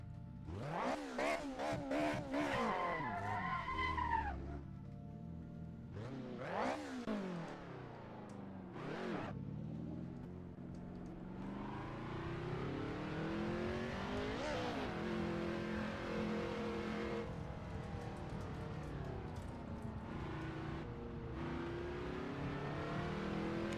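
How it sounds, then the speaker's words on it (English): A BMW M3 E30 in a racing game revs hard, its engine note climbing and falling through repeated sweeps, then settling into a steady loud drone with gear changes. "This car used to be my favorite car of all time, the M3 E30."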